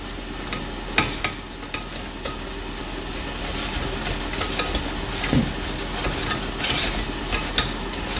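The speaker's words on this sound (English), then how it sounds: "I'm going to give that a good whisk" A whisk beats flour, sugar and salt into a hot, just-boiled mixture for chocolate eclair choux pastry. The scraping and swishing is continuous and close, with sharp taps of the whisk against the pan.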